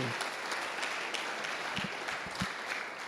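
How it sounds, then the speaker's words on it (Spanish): A church congregation claps during a sermon, giving a fairly faint, rough wash of applause with a few dull low thumps scattered through it. "Dele un aplauso al Señor, hermanos"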